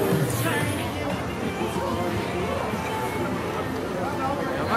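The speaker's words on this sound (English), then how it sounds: "Crowd just like real super thick out here." Dense street crowd packed into Myeongdong, Seoul, with a constant hubbub of overlapping voices and footsteps nearby, steady level throughout with a clearer voice speaking over it.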